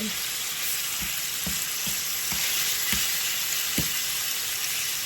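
Chicken breast frying in a pan for Jamaican rasta pasta, giving a dense, even hiss of sizzling oil with a few soft pops and low thumps spread through, close and steady, no talking.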